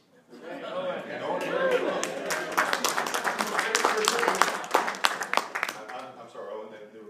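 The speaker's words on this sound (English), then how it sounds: "they were being rude and clapping while you were talking" Scattered applause from a crowd during introductions at a House Health, Welfare, and Institutions Committee hearing, irregular claps rising and falling over steady murmuring chatter in a large room.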